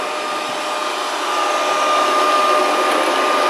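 A Proscenic 790T Coco Smart robot vacuum cleaner runs indoors with a steady, loud, close whirring motor and suction hiss. The drone stays constant and grows slightly stronger, with no voices.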